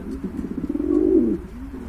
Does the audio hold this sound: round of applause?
no